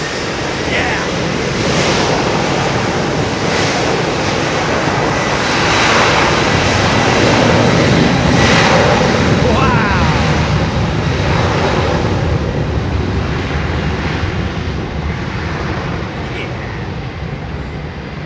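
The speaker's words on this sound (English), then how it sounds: "EK31 landing on Bath Road." An Emirates airliner, flight EK31, comes in to land at Heathrow over Bath Road, a sustained loud jet roar that swells toward the middle and slowly eases, with a voice briefly audible beneath it.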